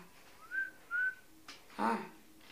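A person whistles a short tune alone: two rising sustained notes, a pause with a brief click, then a longer warbling whistled phrase, close and clear.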